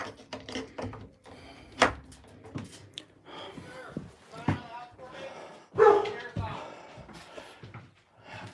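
Dog barking in a tense roadside encounter with police, giving several sharp, loud barks and yips at irregular intervals, with people talking over and between them.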